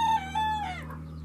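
A tiny homestead rooster gives one short, clear crow that rises and then trails off, heard alone at moderate distance.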